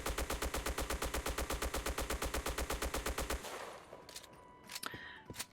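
A Type 95 rifle fires in a video game on sustained full-auto, a fast, even, loud burst of about thirty shots that stops abruptly and is followed by quieter clicks and handling noises.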